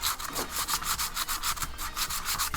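Coarse, lower-grit sandpaper rubs back and forth on a part of a homemade pinball machine: quick, even, rhythmic scraping strokes, close and continuous, with no talking.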